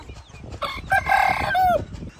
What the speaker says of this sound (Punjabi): ਕੁੱਕੜ ਇੱਧਰ ਭਾਈ ਉੱਤੇ ਛੱਡੇ ਹੋਏ ਆ